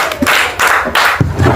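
Schoolchildren in a classroom clap together for a boy's correct answer, a short burst of loud, rhythmic group claps in a few quick pulses.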